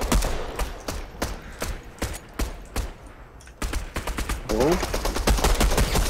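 Rapid bursts of gunfire in Fortnite, sharp repeated shots in quick irregular volleys that continue steadily throughout, loud and close, with denser firing near the end.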